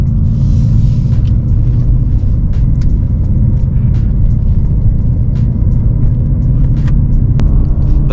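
A 2022 Ford Mustang Mach 1 with a six-speed Tremec manual pulling away, heard from inside the cabin as a loud, steady low engine rumble and road drone without talking.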